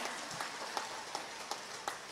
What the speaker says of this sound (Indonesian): Ayo tepuk tangan dulu untuk para perempuan.